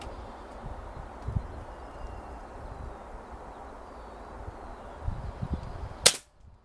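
A Beeman 1357 air pistol fires a single Wasp pellet, a sharp, loud crack after several seconds of quiet outdoor ambience, followed by sudden silence.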